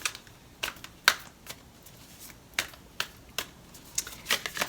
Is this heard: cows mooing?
no